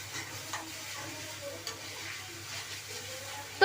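Chicken makhni base with butter is stirred in a pan, a soft steady sizzle with faint scraping strokes of a spoon, quiet and close, ending in a brief louder knock.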